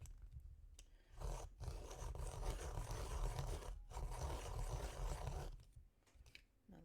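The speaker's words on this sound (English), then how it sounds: "sharpener is protesting" A sharpener grinding with a rough, strained scraping that runs steadily for several seconds and then trails off, fairly quiet and heard alone.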